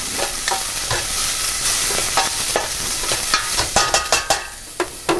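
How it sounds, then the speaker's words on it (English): Garlic being stirred as it fries in a pan for bringhe, with a steady sizzle under repeated sharp scraping strokes of a utensil that grow more frequent toward the end. "Also, put garlic, stir it up."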